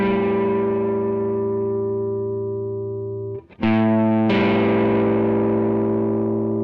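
A distorted electric guitar rings out a sustained note, a brief scratchy pause, then two more held notes with heavy overdrive.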